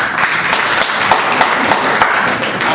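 A quiz-show studio audience claps to vote on a multiple-choice answer, giving a dense, steady burst of many hands close by that fills the whole stretch without pause.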